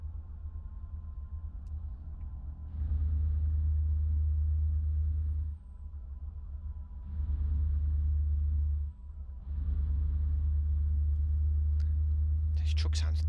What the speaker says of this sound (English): This truck sounds dead noisy tonight.